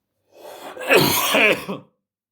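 A single rough, throaty cough or throat clear, close and fairly loud, lasting about a second and a half.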